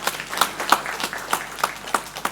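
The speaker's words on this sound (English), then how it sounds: "Let's give him another round of applause for communicating." Scattered handclaps from a small audience, a sparse, uneven patter of claps repeating every fraction of a second at moderate volume.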